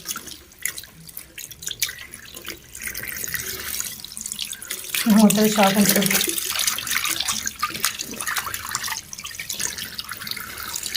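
Water gushes and splashes out of a washing machine for a few seconds, rising in the middle, with a person speaking briefly and background household noise around it.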